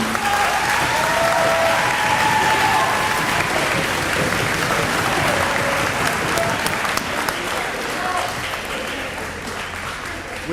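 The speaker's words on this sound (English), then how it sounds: "Let's give the parents a round of applause for them." A banquet crowd claps for the parents at a school athletic awards night, a loud sustained burst of applause that fills the room for the whole stretch before easing slightly toward the end.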